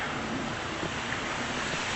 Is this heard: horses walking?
no